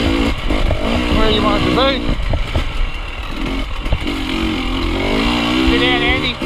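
A motorcycle ridden at The Pines with smooth throttle, its engine droning steadily with rising and falling pitch close by, under continuous loud talk.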